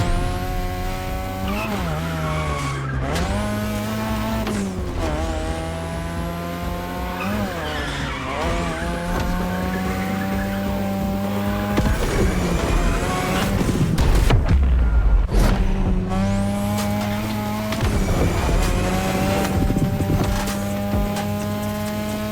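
A third-generation 2002 Mazda RX-7 with a rotary engine races hard in The Crew Motorfest. Its high engine note rises and falls through repeated shifts, and tires squeal and skid through the corners. It stays loud and close throughout, with no talk.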